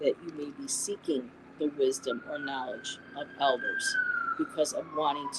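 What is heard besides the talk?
police sirens outside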